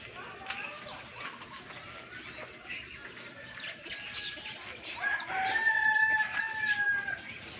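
Caged breeder chickens cluck and crow over a steady outdoor background of chirping birds. Several roosters let out louder, drawn-out crows toward the end, moderately distant and with no talk.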